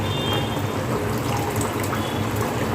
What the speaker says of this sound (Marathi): इथे जे आपण घेतलेलं कोकम ते आपण या चाळणीमध्ये घालूया आणि त्याचं